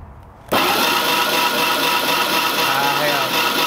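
A car engine cranked over with a remote starter during misfire diagnosis, starting abruptly after a quiet moment and then churning loudly and steadily at close range.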